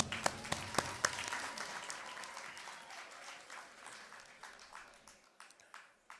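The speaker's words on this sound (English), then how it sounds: "Hands of applause, please." Scattered, faint applause at an International Women's Day celebration, a few sharp individual claps at first, then light, uneven clapping from a modest audience that thins toward the end.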